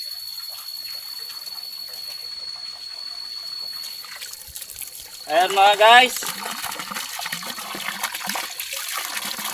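Water from a siphoned hose in a forest gushes and trickles close by in a short burst, with steady insect buzzing behind it and someone speaking briefly before it starts.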